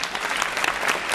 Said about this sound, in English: you should give yourselves a round of applause for being here and for taking part in this tonight